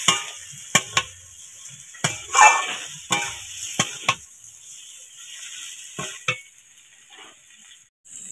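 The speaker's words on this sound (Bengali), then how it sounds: "দিয়ে সবজির সাথে কষিয়ে নেব" Fried moong dal is stir-fried with vegetables in a pan: a soft background sizzle is punctuated by sharp spatula scrapes and clinks at irregular intervals, with quieter stretches between them.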